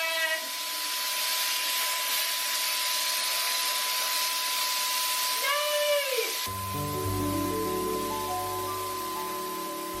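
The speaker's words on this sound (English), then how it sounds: "If you are in the market for a paint sprayer for furniture projects, DIYs, painting cabinets, or walls, I really like this one" Paint sprayer hissing steadily as it sprays primer onto kitchen cabinets, a continuous airy spray with a motor whine, briefly changing pitch before cutting to a lower droning hum.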